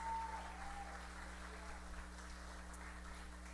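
Congregation in a church applauds, a faint, steady wash of many hands clapping at a distance over a low electrical hum, with no pauses for the whole stretch.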